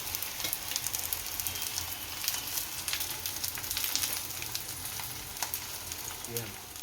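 Rava uttapam fries in a little oil on a pan, a steady soft sizzle with faint crackles throughout, heard alone and fairly quiet.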